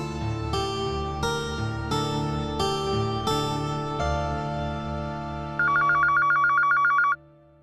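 A telephone rings in a steady electronic trill, loud and close, over a sustained musical backdrop with no voices.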